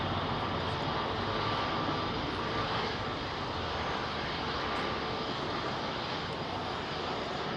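Heavy airliner jet engines, including Airbus A380s, roar through a departure at Heathrow, a loud, broadband rumble holding steady and close throughout without any talk.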